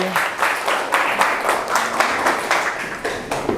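A classroom group claps after a presentation, a continuous patter of hands with rhythmic swells, moderately loud, with a voice speaking faintly underneath.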